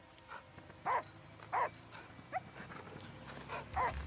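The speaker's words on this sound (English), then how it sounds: "Oh, the dog makes it happen now." A dog in the video game Last Day of June barks in several sharp, separate yelps spaced a second or so apart, moderately close, over a quiet ambient background.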